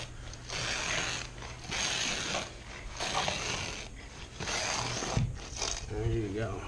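A carpet trimmer shaves the edge of a carpet with repeated grinding, ratcheting cutting strokes at steady intervals, close and fairly quiet, while someone talks throughout.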